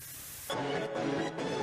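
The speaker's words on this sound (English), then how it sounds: "Cool little distortion right there." A song's mix breaks into a harsh, full-band distortion effect, a sudden loud burst of gritty noise that flutters briefly before continuing.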